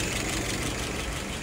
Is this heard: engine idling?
yes